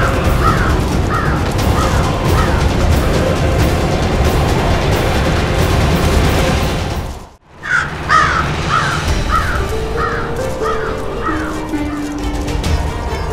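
Crows caw in repeated harsh calls over a dense, loud background of music and ambience, a burst in the first half, a brief dropout, then another run of caws in the second half, set in a devotional TV drama scene.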